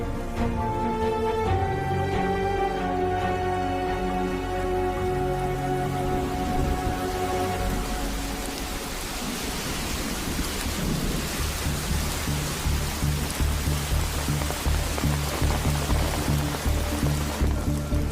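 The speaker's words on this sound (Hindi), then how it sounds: "बरसात तो रुकने का नाम ही नहीं ले रही है भैया।" A heavy downpour with thunder roars steadily and loudly and stays close throughout, while sustained musical tones sit under the storm at first and then fade out.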